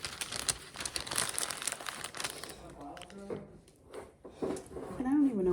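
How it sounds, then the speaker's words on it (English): Parchment paper handled up close, with a busy crinkling and rustling at first that thins into softer, scattered rustles. A quiet voice comes in near the end. "Piece of parchment."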